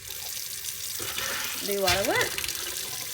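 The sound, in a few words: water running from a faucet into a trailer sink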